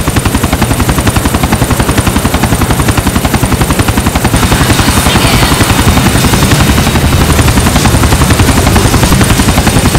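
A helicopter in the video game GTA 4, its rotor thumping fast and steady throughout, loud and close, with a rapid rhythmic chop over a constant engine whine.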